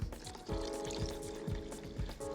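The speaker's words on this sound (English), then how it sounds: "All that in, just fill it up with water." Water pours into a pot of rice and beans in a steady, gurgling stream, with rhythmic glugs roughly every half second, close and fairly quiet with no talk.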